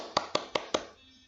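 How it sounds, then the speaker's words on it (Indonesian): Four sharp, evenly spaced hand claps ring out close and fairly quiet, applause for children in a classroom lesson, then fade into a low hum. "Tepuk tangan dulu dong untuk anak-anak ibu yang hebat"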